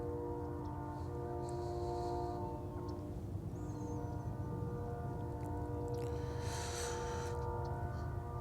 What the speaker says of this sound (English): I love the sound of trains.